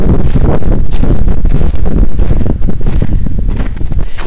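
Strong wind at a lake buffets the microphone, a loud continuous roaring rumble with gusty swells throughout.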